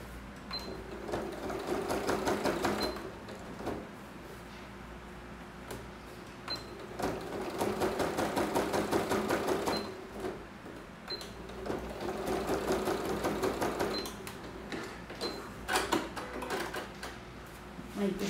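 A sewing machine stitches thick, lined fabric for a child's zippered pouch, running in several steady bursts of rapid needle clatter separated by short pauses, close and moderately loud.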